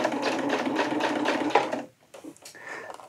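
Sewing machine stitching a camo hammock tarp, a fast steady whirring run that stops abruptly partway, followed by quieter handling noises.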